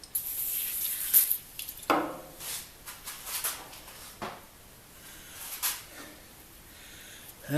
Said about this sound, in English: So we'll give it a little dab of industrial spray.